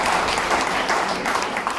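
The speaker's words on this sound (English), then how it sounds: "I think we should actually give everybody here a round of applause" Audience at an honours opening ceremony in public and development management applauding, dense steady clapping from a crowd filling the whole short stretch.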